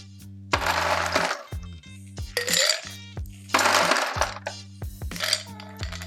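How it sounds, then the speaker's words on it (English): Ice cubes clatter into a hurricane glass in two bursts of rattling and cracking over a steady low background hum, close and fairly loud, with no talk. "Next, you're going to pour ice into your hurricane glass."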